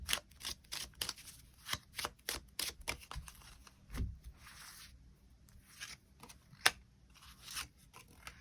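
Tarot cards are shuffled and drawn nearby, a quick series of crisp flicks and snaps in uneven bursts with quieter gaps between, no talk.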